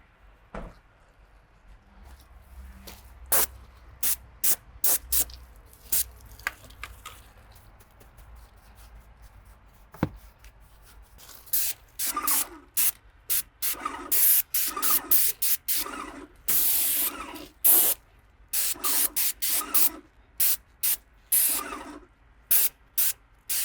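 A pressure sprayer mists whitewash onto red brick in a run of sharp, close bursts of spray, sparse at first and then coming quickly one after another.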